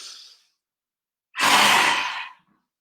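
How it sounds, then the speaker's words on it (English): A single forceful, rasping yoga exhale pushed out through the mouth, loud and close, lasting about a second after a brief soft breath and a pause, with no talking. "Breathing in, strong inhale. And this rasping sound coming out through the mouth."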